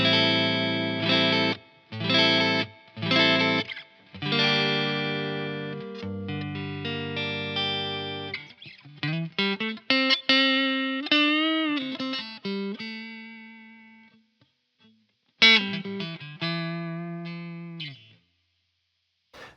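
A Fender Stratocaster electric guitar on its neck pickup plays a clean sequence of chords and single-note lines, with sustained ringing notes, bends and pauses, clear and close with no voices.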